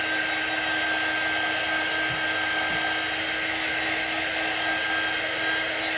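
A handheld heat tool blowing over white chalk paste, a steady close whirring hiss with a faint whine, constant and unbroken for the whole stretch.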